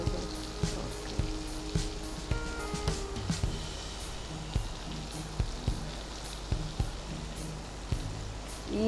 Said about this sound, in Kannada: ಸೊ ಜಸ್ಟ್ ಹಾಗೆ ಪೊಟ್ಯಾಟೊ ಫ್ರೈ ಮಾಡಿಕೊಂಡು.